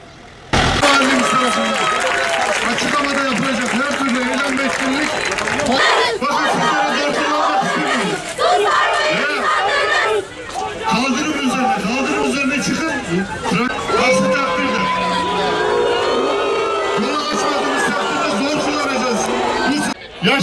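Large crowd of mostly female Furkan supporters gathered around a courthouse, a steady loud murmur of many voices with shouts and traffic noise mixed in, continuous throughout.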